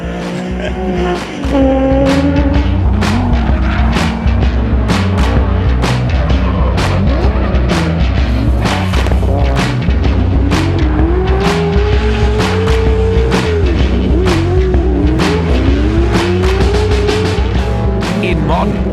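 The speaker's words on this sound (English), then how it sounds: "Being able to flog cars through the streets legally, unbelievable." Rally cars racing flat out through public streets during Targa Tasmania 2013, a loud continuous engine roar with revs rising and falling, gear changes and a car passing, with a voice speaking over it.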